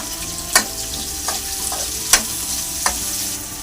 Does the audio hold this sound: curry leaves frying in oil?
yes